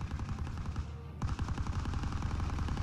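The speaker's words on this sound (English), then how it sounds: "there's quite a lot of gunfire going on" Dense, rapid gunfire crackles continuously through a Call of Duty: WWII zombies scene, with a brief lull before bursts of shots resume at steady intensity.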